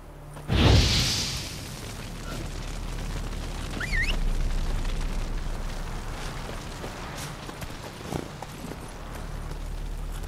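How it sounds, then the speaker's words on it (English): Igni fire sign blast in The Witcher 3: Hearts of Stone, a sudden loud whoosh-boom near the start that decays into a lingering rumble, with a second surge of roaring energy a few seconds later over ongoing game ambience. "Now for a shot of Igni"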